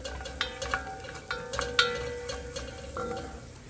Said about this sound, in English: I turned that off, but it's still sizzling.